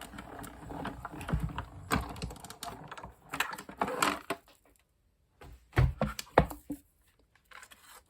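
Cardstock with an embossing plate is cranked through a manual embossing machine, giving irregular ratcheting clicks and grinding mechanical rolls, close and moderately loud, with brief pauses between turns.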